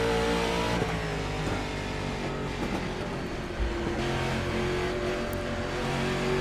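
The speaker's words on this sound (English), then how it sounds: "Listen to her pedal the throttle." A race car engine in the iRacing sim at Nashville Fairgrounds Speedway drones loudly and steadily with pitch swells as the throttle is pedaled on and off, amid a pack of cars battling closely, no voices present.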